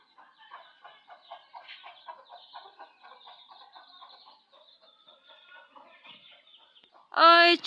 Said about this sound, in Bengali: ওই ছোট্ট টুনটুনি মুরগি ছানা।